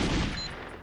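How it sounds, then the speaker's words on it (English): Enemy gunfire in the 1997 shooter GoldenEye 007: a brief, loud burst of rapid shots up close, quickly fading into a quieter tail. "they're still up there shooting at me"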